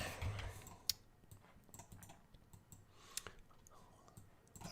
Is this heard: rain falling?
no